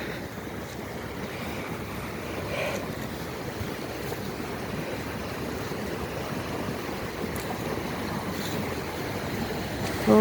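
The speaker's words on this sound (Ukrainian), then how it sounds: "Вирує водичка." Swirling water rushing through a stream in a ravine, a steady broadband roar with gusty wind noise, continuous and fairly close, with no voices.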